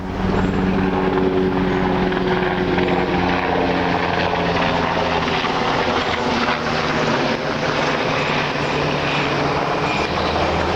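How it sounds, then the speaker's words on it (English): A helicopter's loud, continuous rotor drone holds steady throughout, close and overhead, with nothing else audible. "Let's let this helicopter go by."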